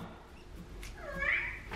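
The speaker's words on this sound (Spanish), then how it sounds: "¡Gato!" A single cat meow rises and bends in pitch at moderate distance, with a quiet room murmur underneath and no other clear sounds.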